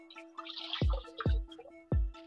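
Water poured from a small pitcher splashes onto a bleach-dyed shirt during a reverse tie-dye rinse. Three distinct splashing pours land close by over a steady trickle and drip.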